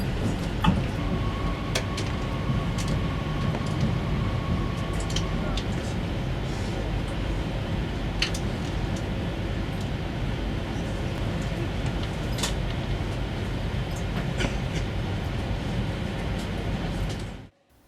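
A steady low rumble of trains fills a busy five-platform railway station in Annecy, with a faint whine and occasional clanks and knocks over the continuous roar.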